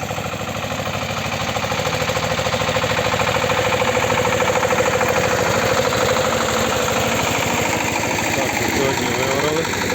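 A Shifeng 240 tractor engine drags a plow through a field, running loud and steady with a constant rhythmic throb and heavy vibration, close by for the whole stretch.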